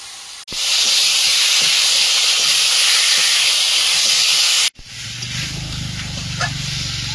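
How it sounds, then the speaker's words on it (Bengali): Cauliflower and potato go into a pan of fried spice paste with chili and cumin, setting off a loud, steady sizzling hiss that lasts several seconds, then drops abruptly to a quieter bubbling fry. "মশলাটা কষিয়ে নিয়েছি, এবার ফুলকপি আলুটা দিয়ে দেবো।"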